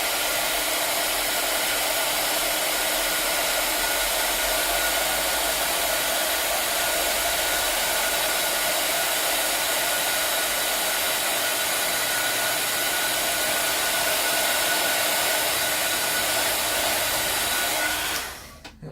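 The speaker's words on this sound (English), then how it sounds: "Right, then you take your heat gun, and you're just going to heat this up." A heat gun blows steadily at close range over a stamped card, a loud continuous whooshing roar that runs unbroken for nearly twenty seconds before cutting off at the end.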